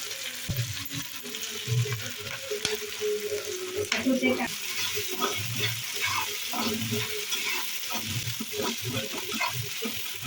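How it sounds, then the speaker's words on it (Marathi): Curry leaves drop into hot oil with onion and tomato for a festival fasting meal, crackling in steady sizzling bursts as a spoon stirs the pan, close and fairly loud throughout. "आता मी त्यात कडीपत्ता टाकणार"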